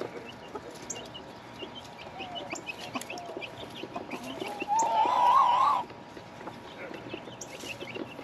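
A rooster lets out one loud, drawn-out call, with quieter clucking and farmyard murmur around it.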